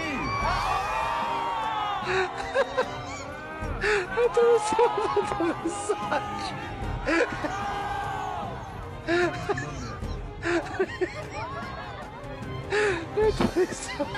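A large crowd in Bali shouts, whoops and cheers in repeated loud bursts over a busy background, with some laughter mixed in and a voice speaking between the waves of noise.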